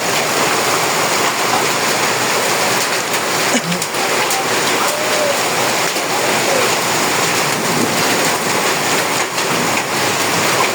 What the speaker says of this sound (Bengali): দেখেন কত বড় বড় পাথর করতেছে, বিশাল বড় বড়। টিনের শব্দ দেখতে পাচ্ছেন আপনারা।